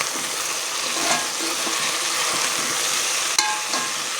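Cluster beans and potato curry frying with chilli and coriander powders, a steady dense sizzle throughout with a brief stir or clink near the end, close and alone without talk.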